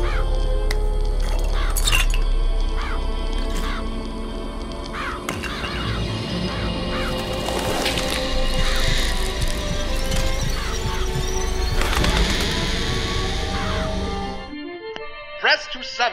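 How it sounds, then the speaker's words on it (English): A flock of murderous crows summoned as a power in BioShock Infinite on the Comstock Center rooftops, with repeated caws and flapping over a busy mix of combat clatter that cuts off near the end. "Press to summon murderous crows."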